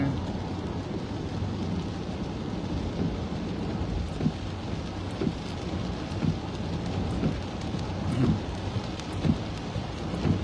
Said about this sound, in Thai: ขอนแก่นฝนตกหนักมาก